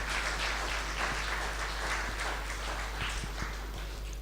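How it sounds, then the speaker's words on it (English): Audience applause for a panel of speakers at a report launch event, a steady broadband wash of clapping sustained throughout, fairly loud and even with no voices over it. "give another round of applause for all the panelists"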